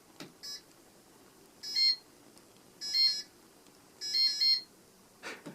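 A circa-1989 Homestead Geneva Homestar ceiling fan in demo mode emits a sequence of short electronic beep bursts, three longer chirping trills spaced about a second apart, plus softer clicks at start and end.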